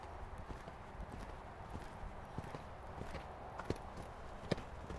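Horse hooves thud rhythmically in a cantering gait during a riding lesson in an arena, steady and moderately close, with faint background ambience and occasional sharper knocks.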